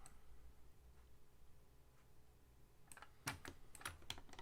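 Keyboard keys tapped in a short burst of about six quick clicks, near and fairly crisp, in a quiet room during car roof surface modeling in Alias software, following a few seconds of near silence.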